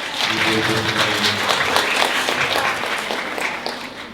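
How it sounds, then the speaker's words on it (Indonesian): Audience at a university campus event applauding a group of women, a sustained wash of many hands clapping at even loudness throughout, with a faint hum underneath. "Jadi mungkin kita perlu beri tepuk tangan dulu ini untuk ibu-ibu ini."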